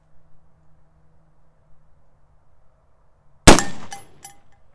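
A single sharp shot from an engraved 1851 Navy .44 cap-and-ball revolver, loud and close after quiet ambience, with a short ringing decay and a faint metallic clink just after.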